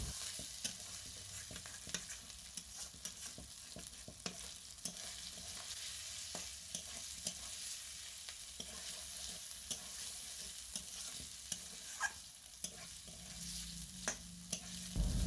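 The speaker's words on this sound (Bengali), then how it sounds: "আলুগুলো দিয়ে কিছুক্ষণ নাড়াচাড়া করে তারপর পেঁপেগুলো দিয়ে দেব।" Steamed potato pieces fry in spice paste for a thin singi fish and papaya curry, a soft steady sizzle running throughout with scattered scraping clicks from stirring, fairly quiet and with no voices.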